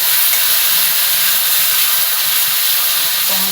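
Chopped tomatoes land in hot oil already fried with a dried red chilli and whole cumin, giving a steady, loud broadband sizzle and hiss that runs unbroken throughout with no talking.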